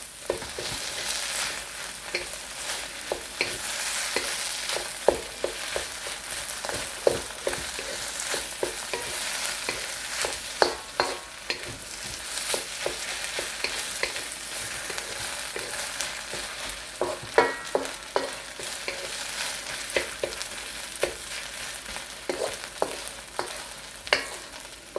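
Sticky rice being stirred constantly in oil in a pan, a continuous sizzle with irregular sharp scrapes and clacks of the utensil over about twenty-five seconds, close and without speech.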